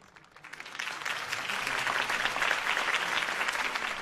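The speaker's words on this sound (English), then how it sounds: "If only Mr. Wayne, my campaign's largest backer, could have heard that applause" Crowd applause after a campaign speech in the Batman Telltale video game, starting sparse and quickly swelling into a loud, sustained roar of clapping from a large audience.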